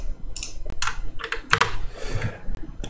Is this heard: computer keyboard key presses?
yes